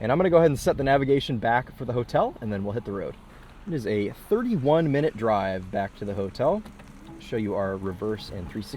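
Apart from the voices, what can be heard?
None of the usual background noises is heard.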